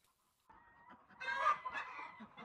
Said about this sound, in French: Ce sont des poules pondeuses.